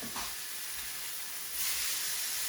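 Ribeye steak sizzling in a pan on a stovetop, a steady broadband hiss and crackle that swells louder toward the end, with no talk.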